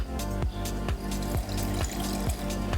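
Water is poured into wheat dosa batter in a bowl, giving a quiet liquid trickle with soft sloshing pulses roughly every half second.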